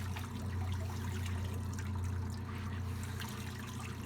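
Overalls being wrung through a wringer washer, with a steady motor hum under continuous trickling and dribbling water, close and even throughout, with no talking.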